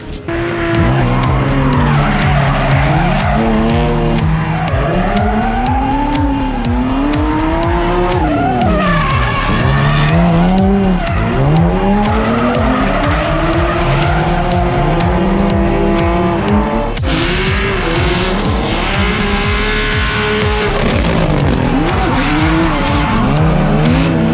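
Nissan S13 and 350Z drift cars sliding around a karting track, engines revving up and down in wavering howls while tires squeal continuously, loud and close, for the whole stretch with no talk.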